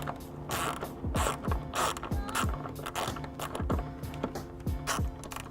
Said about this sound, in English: I'll be using my 10mm to remove the nut off of the tail light.